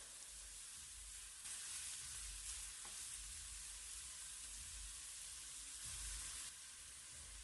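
Potatoes and onions frying in a pan while being stirred, a steady close sizzle with occasional scraping from the mixing, and no talking.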